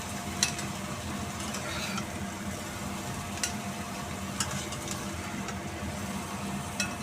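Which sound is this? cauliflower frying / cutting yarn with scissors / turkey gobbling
cauliflower frying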